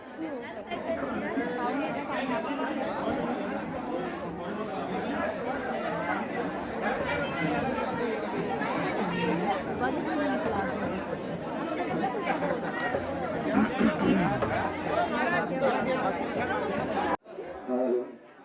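Dense crowd chatter from many voices at a Shri Ram palkhi procession in Agasangaon, a steady loud murmur that runs throughout and cuts off abruptly near the end.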